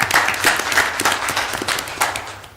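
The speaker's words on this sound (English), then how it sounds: "I think we can give a round of applause to all of our large and small businesses" A board meeting audience claps briefly in a room, a short patter of applause lasting a couple of seconds with no talking over it.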